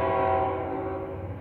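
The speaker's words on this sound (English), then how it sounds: "Looks like it might be a CSX Gevo with a K5 LA horn." A CSX GEVO locomotive blasts its K5LA air horn, a loud sustained chord from close by that holds steady and slowly fades, on a railway line in Marion, Ohio, near an empty coal train.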